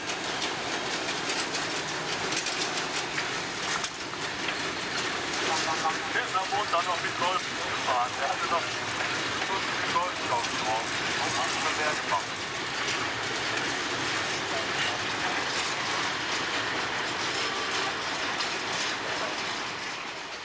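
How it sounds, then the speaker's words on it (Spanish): Austrian series 1042 electric locomotive hauling a rolling highway train, a continuous loud rumble with rhythmic wheel clatter over the rails, passing steadily under narration. "La 1042-44 transporta toda una carretera rodante."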